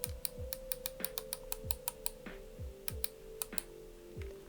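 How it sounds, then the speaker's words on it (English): Sharp, quiet clicks of an ASUS wireless computer mouse repeat in quick irregular bursts, each a crisp tick, with a faint low hum underneath and no talking. "So that's a bit loud if you keep clicking it."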